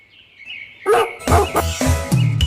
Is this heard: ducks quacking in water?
no